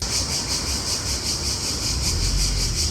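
A loud, shrill chorus of male cicadas in a Croatian town pulses rhythmically over a steady background hum, continuous and close.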